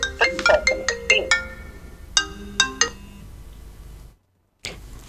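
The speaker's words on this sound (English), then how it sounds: "I can hear a phone in the background." A phone ringtone plays nearby in an indoor room: a bright, melodic run of rapid electronic notes, then a shorter second burst, before cutting off, with a faint voice resuming afterward.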